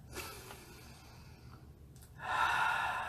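A single deep breath, soft airy inhalation building into a louder, sustained exhale near the end, quiet and close with no speech.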